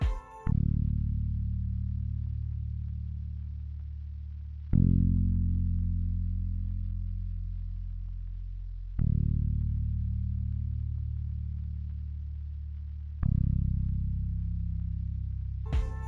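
Four deep bass guitar notes with boosted low frequencies, evenly spaced, each struck and left ringing with a long, slowly fading reverb tail.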